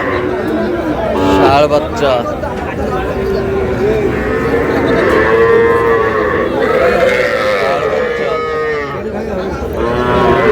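Bull calves low and moo in drawn-out calls at a cattle market, amid loud nearby talking and general crowd chatter.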